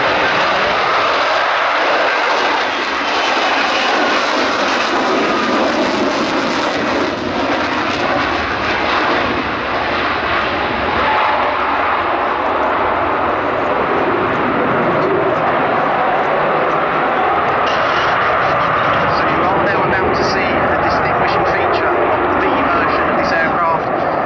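An RAF F-35B jet on landing approach with its gear down at a Cosford airshow, a loud, continuous and close engine roar that holds for the whole stretch and shifts slightly in tone as the jet moves.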